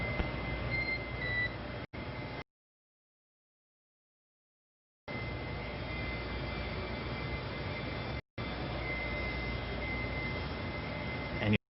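A steady hiss of radio static from SpaceX Dragon launch communications is broken by short gaps of silence, with faint tonal beeps in the transmission.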